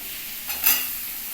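Jackfruit seeds dropped into a pan with turmeric for a curry set off a short sizzling burst that swells and fades within a second against a low steady hiss.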